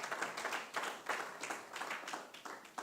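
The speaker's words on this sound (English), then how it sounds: "Give him a bigger round of applause, please." Conference audience clapping in applause for a speaker, a faint, steady patter of many hands heard from a distance, with no talking over it.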